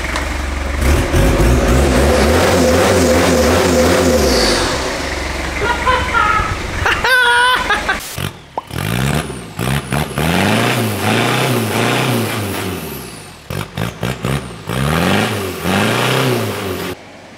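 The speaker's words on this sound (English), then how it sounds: "give it a rev, we'll see" A classic Toyota Hilux 2.4 litre engine with no muffler revs hard and loud with a raw, unmuffled roar, climbing and dropping repeatedly, with brief pauses between bursts and some voices mixed in.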